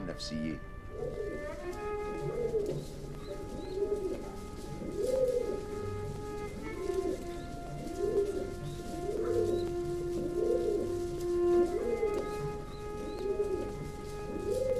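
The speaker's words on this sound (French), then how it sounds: "Le son que produisent les pigeons, ce chant est très doux et il évoque la parole humaine." Pigeons coo softly and repeatedly in a low, rhythmic warble, with a steady background hum and a faint tonal drone throughout.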